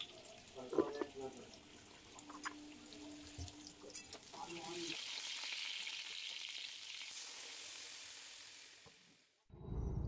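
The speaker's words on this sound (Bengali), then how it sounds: "একদিকে আলুটা ভাজছি ধিমে আছে" Potatoes fry gently in a pan over low heat, giving a soft, continuous sizzle; a few utensil clinks come early on, then a steadier, quieter hiss before it cuts off near the end.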